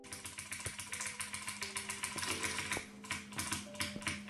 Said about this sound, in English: The audio is really just him bottoming out his keys because he's tapping harder during the harder section of the map.